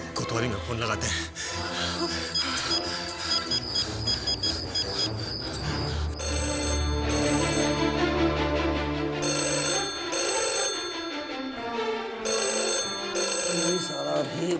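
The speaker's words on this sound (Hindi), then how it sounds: "कोतवाली में फोन लगाते हैं।" A telephone rings out repeatedly during a call to a police station, the ringing tone and bell-like pulses heard close and clear alongside talking and other background sound.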